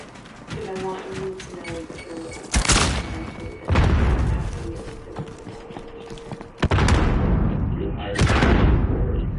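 Grenade explosions in a Call of Duty Modern Warfare match: several loud, booming blasts land in sequence, each with a sharp onset and a long decaying rumble, over continuous game noise and some voice chat.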